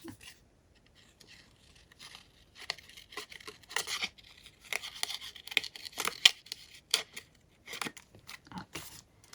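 Scissors snip and tear through paper for a crafting collage, a quick run of close, crisp cuts and rips in irregular bursts, with no one speaking.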